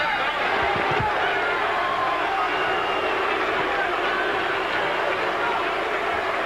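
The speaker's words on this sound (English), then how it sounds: "as the crowd boos" Arena crowd at a heavyweight boxing match, Oliver McCall against Tony Tucker, giving a loud, sustained wash of booing and crowd noise with a couple of dull thuds early on and indistinct voices mixed in.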